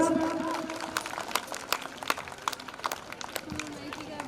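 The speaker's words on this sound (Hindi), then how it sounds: "एक बार जोरदार तालियों के साथ।" Scattered, uneven hand claps from an audience at a class 12 students' school play about the Buddha, sounding sparse and moderately close under strong overlapping talk and tonal sounds.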